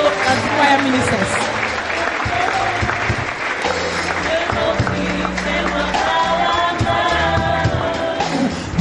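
A church congregation applauds and claps continuously to acclaim the Lord during a worship service while a choir ministers, with music and voices mixed into a dense, steady crowd sound.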